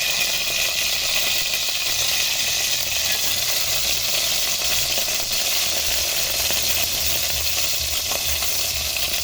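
Ricado seasoning and garlic dropped into a hot pan for squid adobo, a continuous bright sizzle and crackle of frying with faint stirring scrapes, steady and close throughout.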